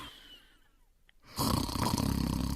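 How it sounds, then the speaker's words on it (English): A quiet, breathy stretch gives way to a loud, rumbling snore that swells and holds, heavy and close. "He is snoring in his bedroom."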